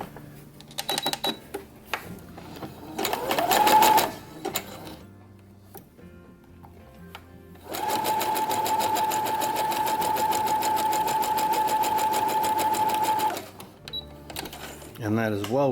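A sewing machine stitches a zigzag seam on a Star Wars jumpsuit, starting with short bursts, then running in one long steady whirring stretch, with brief handling noises and a voice speaking between the runs.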